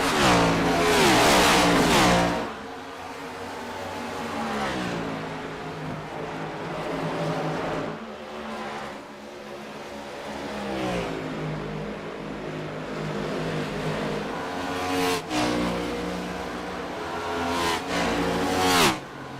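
Race cars screaming around the Motegi oval on the final lap in a racing video game, engine notes rising and falling as they pass, with a loud burst at the start and another swell near the end.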